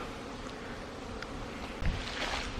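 Honeybees buzz around flowering acacia trees at a family apiary, a soft continuous hum with gentle wind noise and a slight bump in loudness near the end.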